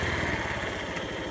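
Motorcycle engine running steadily on a rough road in Laos, a close, continuous low mechanical drone with a throbbing pulse and no talk over it.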